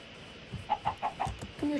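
Soft clucking from a chicken in Minecraft, a quick run of four or five short clucks over low background noise.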